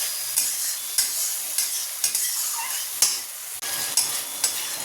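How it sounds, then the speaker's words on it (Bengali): Thick ground paste of tomato, ginger, green chilli and cashew sautéing in hot oil, with a steady sizzle broken by regular scrapes and clacks of a spoon stirring through the pan, close and fairly loud. "এবার বাটা মশলাটা, এই যে টমেটো, আদা, কাঁচা লঙ্কা আর কাজু, ভালো করে কষিয়ে নেব।"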